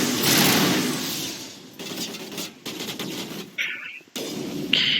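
Rocket blasts and turret gunfire in a video game sound as a loud opening burst followed by rapid, crackling volleys, with sharp bangs separated by brief gaps.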